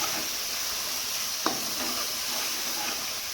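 Dried red chilli is stirred into vegetables in a pan under a steady, loud frying hiss, with one brief scrape of the spoon partway through.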